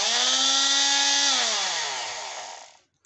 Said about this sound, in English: That is how a multi-tool actually functions. The blade usually moves very fast like this, and so it can cut very well.